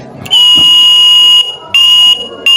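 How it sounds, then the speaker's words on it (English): Loud electric alarm bell on a timer and contactor circuit, ringing in a steady piercing tone, cutting off briefly, then ringing again and starting a third time, close and dominant. "I'm going to set it to 5 seconds, which means that this alarm have to ring for 5 seconds"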